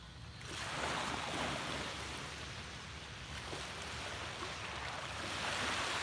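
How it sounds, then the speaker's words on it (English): Ocean surf rolls steadily onto a beach as a broad, continuous wash of breaking waves, loud and close, with some wind noise and no talking. "soak in the colors, the sounds of the waves, and set our intentions for the day."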